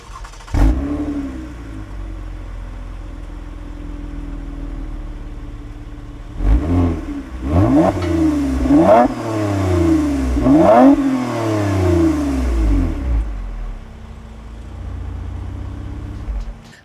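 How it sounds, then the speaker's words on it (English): A Toyota Avalon TRD engine idles through its exhaust, then revs sharply in several quick bursts that rise and fall, loud and close, before settling back to a steady idle rumble. No one speaks. "I definitely want you guys to hear the exhaust."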